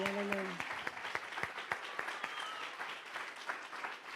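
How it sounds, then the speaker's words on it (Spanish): A church congregation gives loud, sustained applause during a ministry service, dense clapping throughout with a brief vocal tone at the start. "denle un fuerte aplauso al Aleluya, Señor"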